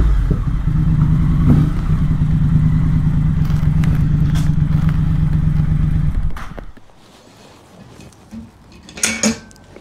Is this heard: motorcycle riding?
yes